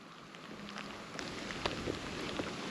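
Steady rain hissing outdoors on the Maine coast, with scattered drops tapping nearby surfaces; no voices.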